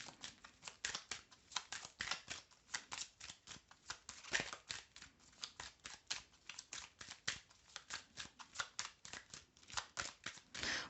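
Tarot cards being drawn and shuffled, a fast string of close, crisp card flicks and riffles that continue steadily, with no one speaking.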